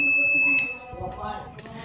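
An Aneng ST180 clamp meter in continuity mode gives a sharp, high electronic buzzer beep for about half a second, close and clear, followed by someone talking.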